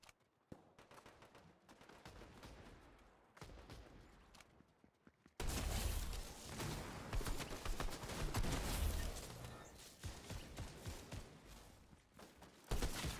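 Fortnite gunshots sound as sharp, scattered cracks at first, then turn into a loud, dense barrage of rapid fire with brief pauses and a heavy final burst.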